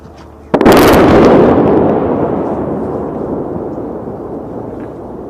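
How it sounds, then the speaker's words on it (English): An airstrike explosion lands with a sudden sharp blast, followed by a long rolling rumble that slowly fades over several seconds, heard from a distance. "another explosion, another airstrike, right now."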